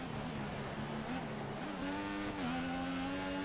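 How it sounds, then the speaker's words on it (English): Formula 1 cars in the F1 2014 video game race by with DRS open. Engine whine rises and shifts pitch as cars pass, heard steadily at moderate loudness. "with the DRS open, they are flying by me."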